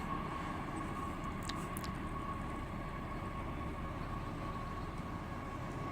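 A train draws near signal lights and a crossing at Gary, a steady low rumble of wheels and engine with a sustained tone near 1 kHz, continuous and moderately loud throughout, no voices.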